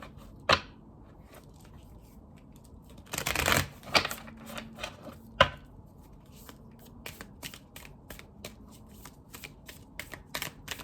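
Thick tarot cards are riffled and shuffled close by, with a dense burst of flapping card noise followed by rapid, irregular clicks and taps as the deck is worked by hand.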